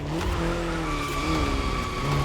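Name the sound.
car braking with tire squeal in video game The Crew Motorfest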